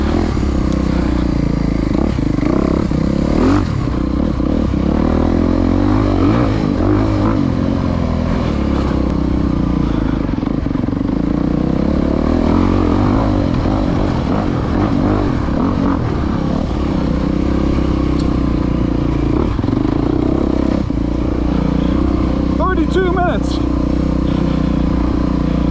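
A racing motorcycle at a SECCA club race at Reynolds Run idles loud and close with a steady, slightly high rumble, plus occasional clatter and a short rev near the end.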